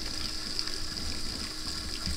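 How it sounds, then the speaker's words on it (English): Steady watery gushing and trickling from a boat's bilge pump pushing out dirty bilge water, a constant wash with a faint high whine, heard close and with no talking. "I'm just gonna go ahead and turn on the bilge pump and pump out all this nasty water."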